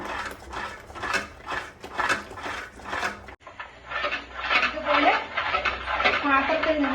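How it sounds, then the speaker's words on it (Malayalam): Jackfruit halwa is stirred in a pan, with soft scraping and light clinks of the utensil against the pan under steady talking. "ഇതെല്ലാം കൂടി നല്ലതുപോലെ നമുക്കൊന്ന് ഇളക്കി യോജിപ്പിക്കാം."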